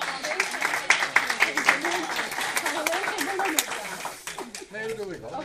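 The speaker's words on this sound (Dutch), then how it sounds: "Applaus." Scattered, uneven clapping from a small group, mixed with chatter and voices talking over it throughout.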